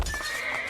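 A horse in the video game Assassin's Creed II gives a loud, close whinny with a trailing neigh, lasting under a second.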